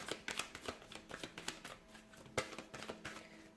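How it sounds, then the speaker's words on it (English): Tarot cards being shuffled close by, a steady run of quick papery riffles and soft snaps with one sharper slap partway through, no voice over them. "let's go ahead and give the cards a shuffle here"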